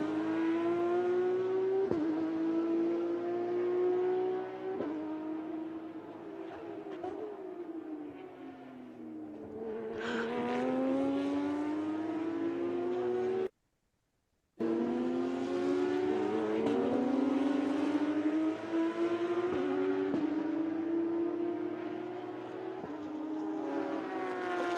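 A 991.2-generation Porsche 911 race car driven hard in qualifying: a loud, close flat-six engine revving up through gears, dropping on downshifts and climbing again, with a brief cut in the middle.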